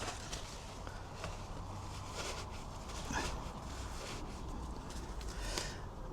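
A dog tears at a paper towel and a cardboard box during motorcycle repair work, with soft rustling, ripping bursts and faint whimpers at low level over a background hum.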